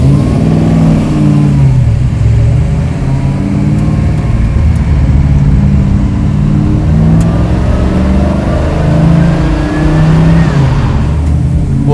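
A carbureted big-block engine in a 1967 Chevy Chevelle restomod revs loud and close, a deep rumbling roar that rises and holds steadily throughout with no talking.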